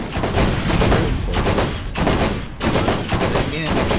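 Gunfire in the video game Borderlands: loud, sustained rapid shooting that runs almost without a break, with brief dips between bursts.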